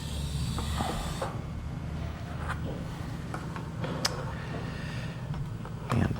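Shielding gas hisses from a TIG welding torch during post-flow, a steady airy rush that is strongest for the first second, then settles into a quieter hiss with faint creaks and ticks.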